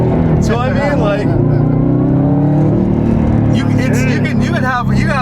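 Inside a Subaru WRX/STI with an AWE Touring exhaust and the windows up, a continuous low engine boom hums through the cabin, swelling slightly as revs change, with voices chatting on top.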